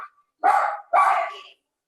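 A dog barking indoors during a cable-broadcast meeting, two clear, close barks in quick succession after a short faint yelp, then silence.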